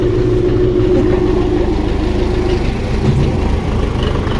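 A YUMZ-6 tractor engine idles steadily and loudly close by, a continuous low diesel rumble with an even throb and no one speaking.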